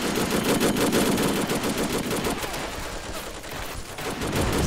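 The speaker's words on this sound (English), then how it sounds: "This little gun here is just like going at it. These are the Japanese type one." Sustained bursts of Japanese Type 1 machine gun fire in the Men of War: Assault Squad 2 battle at South Peleliu Airfield, with loud rapid automatic rattling and overlapping gunfire throughout, no voices.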